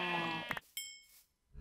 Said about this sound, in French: Le mouton.